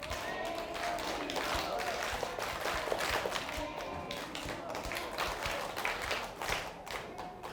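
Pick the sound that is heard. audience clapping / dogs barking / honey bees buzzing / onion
audience clapping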